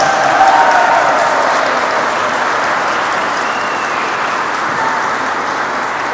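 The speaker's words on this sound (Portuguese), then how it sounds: "Uma salva de palmas." Guests applaud at a wedding ceremony, a steady round of clapping that holds at an even level throughout, sounding like rain from the many overlapping hands.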